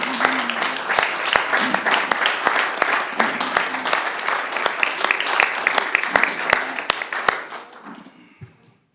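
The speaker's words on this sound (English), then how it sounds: "you deserve a round of applause" A room of attendees at a Board of Aldermen meeting claps for the chief, a steady round of applause that holds for several seconds and then tapers off quickly.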